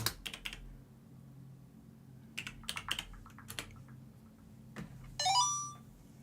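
A phone gives a brief rising electronic ring or chime near the end, preceded by scattered keyboard typing clicks over a low steady hum.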